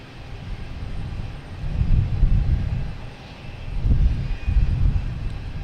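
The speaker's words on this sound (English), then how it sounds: "Taking off American Airlines and E-175." An American Airlines Embraer E175 regional jet taking off from Boston Logan, heading to LaGuardia: a low engine rumble that swells twice in broad waves, moderately close and without voices.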